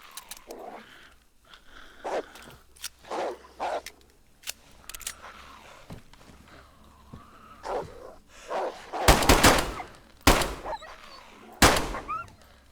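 In the DayZ video game, a dog attacks in a winter setting, giving scattered snarls and barks across the clip, followed by several loud sharp gunshots near the end.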